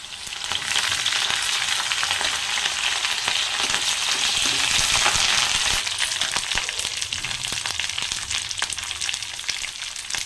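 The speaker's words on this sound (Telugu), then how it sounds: "ఇంకా దంచుకున్న వెల్లుల్లి అయితే వేస్తున్నారు అత్తమ్మ. కరివేపాకు" Crushed garlic and curry leaves fry in hot oil in a pan with a loud, steady sizzle, broken by scattered crackles and pops that last throughout the whole clip.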